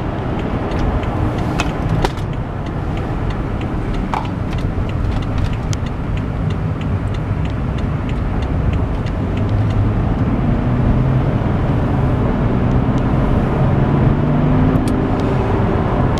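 A car drives along with a steady road rumble and engine hum, the pitch rising gently as it accelerates toward the end, loud and continuous inside the cabin.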